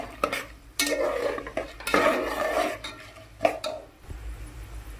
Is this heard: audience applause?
no